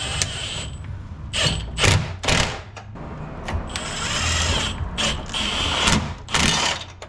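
Repeated bursts of ratchet clicking from a hand ratchet tightening a nut onto a washer and lock washer on a radiator core support bolt of a first-generation Cummins truck, several close, loud runs of rapid clicks with short pauses between.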